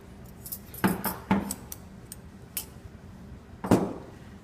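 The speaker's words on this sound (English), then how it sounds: "over here, I have a variety of scissors" Metal surgical scissors handled on a tray, a few sharp clinks and jangles scattered over a few seconds, close but quiet.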